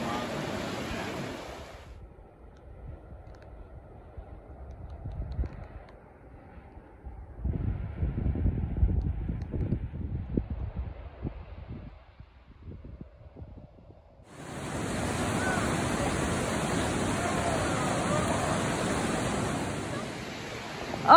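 River water rushing during a trail crossing on the Pacific Crest Trail, a broad steady roar that fades into quieter splashing and returns loud and constant near the end, with no talk.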